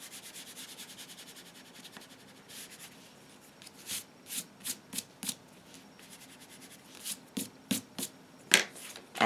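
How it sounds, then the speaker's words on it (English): Rubbing an eraser over pencil lines on a stamped card, with short scrubbing bursts that grow into a rhythmic series of quick strokes, close and distinct. "I'm going to erase my pencil lines"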